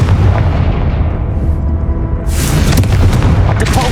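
Hogwarts Legacy's Confringo fire curse erupts midway through a low droning battle din, a loud crackling fiery explosion that bursts in abruptly and keeps sizzling with scattered pops.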